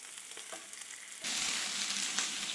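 Bear backstrap sizzling as it browns in a hot pan, a steady broadband frying hiss that swells louder midway as more meat hits the fat, with no talking.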